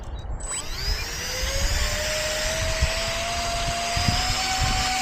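A ZOHD Drift FPV foam plane's electric motor whines up to half throttle during a hand launch, a steady high buzzing drone that rises sharply at the start and then holds over wind rumble, with no voices.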